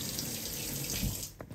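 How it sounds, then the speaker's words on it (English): Tap water runs steadily into a sink to dampen a fresh tea towel during pizza dough preparation, a continuous close splashing rush that breaks into a few brief spurts at the end. "Putting a bit of water on it just to make it a little bit moist."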